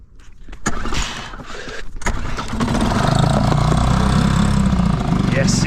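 Small fishing boat's outboard engine on a river cranks with a few sputters, catches, and settles into a loud steady revving drone close by.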